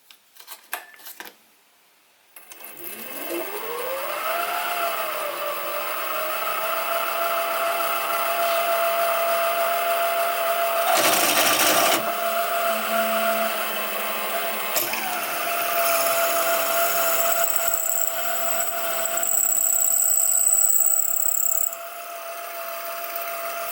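A power drill with a 6.8mm bit spins up to a steady high whine as it bores into metal, with occasional grinding bursts and no speech.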